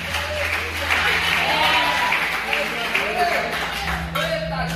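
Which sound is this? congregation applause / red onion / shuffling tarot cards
congregation applause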